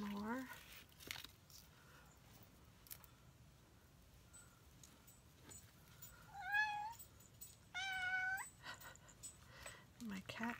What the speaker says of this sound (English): My cat is letting me know he's here.